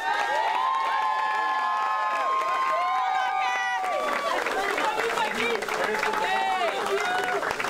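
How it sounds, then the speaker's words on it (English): Crowd applause and cheering at a Quinnipiac Bobcats gathering, sustained and loud, with voices, shouts and a presenter speaking over the noise. "just give a nice round of applause"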